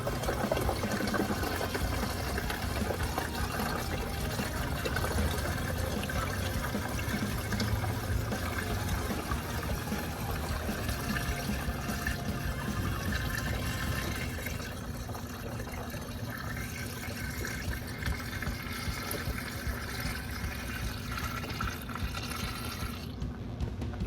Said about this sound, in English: I'm gonna go ahead and just use this bottle to fill up my reservoir